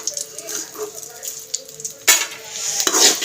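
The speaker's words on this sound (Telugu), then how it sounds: "ఇప్పుడు ఈ తాలింపంతా గిన్నెలోకి అయితే తీసేద్దామండి." Fried tempering being scooped from a pan into a bowl in a home kitchen, with a steady sizzle and the scrape and clink of a spoon against metal, two louder scoops near the end.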